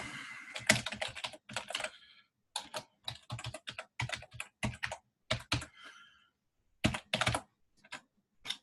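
An email address is typed on a computer keyboard in uneven bursts of crisp, close key clicks separated by short pauses.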